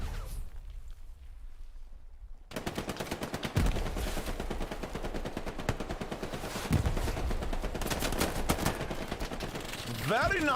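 Rifle and machine-gun fire in Hell Let Loose during an 18-versus-18 tournament match: rapid bursts and single shots crackling continuously after a quieter opening, with some fire close and some more distant.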